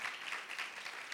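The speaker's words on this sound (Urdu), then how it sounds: "ہم انہیں تالیاں بجا کر ویلکم کریں گے" A church congregation at a New Year service applauds to welcome a visiting family, producing a brief, even wash of moderate clapping from many hands.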